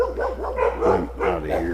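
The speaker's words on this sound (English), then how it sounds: "Oh, now they're gonna bark." Dogs in a town bark in a string of short, close, loud yaps and woofs with brief whimpers, overlapping one another throughout.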